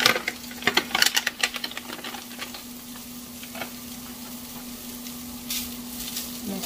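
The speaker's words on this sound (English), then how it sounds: "Then I'm gonna add in the pork sausage crumbles" Pork sausage crumbles sizzle in a hot frying pan with a steady crackle, and a few spatula scrapes and clinks at the start as the meat is stirred.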